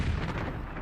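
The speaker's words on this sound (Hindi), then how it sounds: "बम और मिसाइलों के धमाके से जल रहे हैं" Bomb and missile explosions strike Ukrainian cities such as Kyiv and Zaporizhzhia during the Russia-Ukraine war, heard as a loud, dense, rumbling boom that fills the whole moment without a break.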